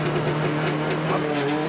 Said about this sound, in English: Just listening to the revs, it bogged down for ages before it lit up.